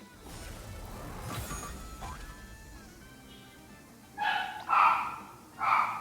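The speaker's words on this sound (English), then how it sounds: "Alright, that's my dog." A few sharp dog barks ring out near the end, three quick yips after a stretch of low background noise.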